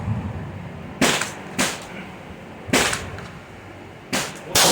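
Rifle shots fired with IMI Systems 7.62x51 ammunition at a 100 yard outdoor range, five sharp loud cracks at irregular intervals with short decaying echoes and light background noise between them.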